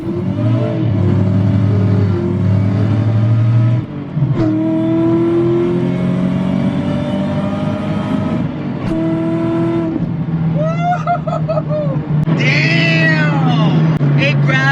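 A Shelby Cobra replica fitted with a McLeod RXT clutch pulls hard up through first, second and third gears, the engine rising in pitch, dropping at each shift, then climbing again close up. Its loud, steady roar covers the whole span.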